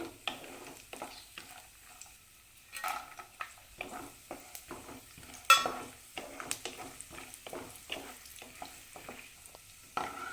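Dry fruits, with raisins among them, fry in ghee for rava laddu while a spoon stirs and scrapes the pan in a steady uneven rhythm over a soft sizzle. The sound is close and moderately quiet, with a sharper clink near the middle and no talk.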